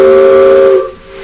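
A loud, close steam whistle blows one sustained tone with a hissy edge, then cuts off abruptly, leaving a faint hiss.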